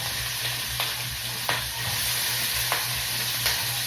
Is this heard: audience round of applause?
no